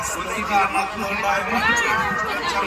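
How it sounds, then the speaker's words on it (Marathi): Dense crowd of devotees gathered at a riverside temple, Aai Kelambadevi at Kharoshi near Pen, with a steady murmur of many overlapping voices, some nearer than others. "भाविकांची गर्दी बघा भरपूर अशी गर्दी आहे आज"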